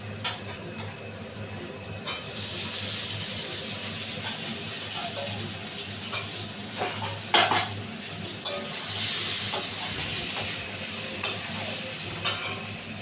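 A spoon stirs and scrapes fried potatoes through sizzling masala in a pan, with steady frying hiss and irregular metallic clinks against the pot.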